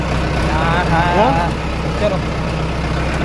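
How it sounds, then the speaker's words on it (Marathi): A tractor engine runs with a steady, low, rumbling drone throughout, while a person talks over it for most of the clip. "हो का डॉन ट्रॅक्टर चालला मस्त पैकी"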